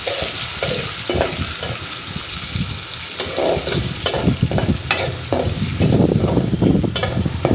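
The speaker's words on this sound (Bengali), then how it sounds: "চিংড়ি মাছটা ভাজা হয়েছে" Prawns fry in hot oil in a pan while being stirred, a busy close sizzle broken by frequent spatula scrapes and clatters, loud and continuous without speech.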